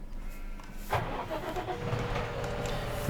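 Tractor engine in Farming Simulator 17 running steadily at a low, even rumble throughout, with a slight surge near the start and a brief bump at the end.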